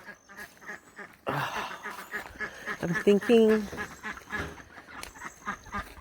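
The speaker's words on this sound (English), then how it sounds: "The ducks." Pet ducks quack in a short burst of calls amid windy outdoor noise as a storm approaches, with a person talking over and around them.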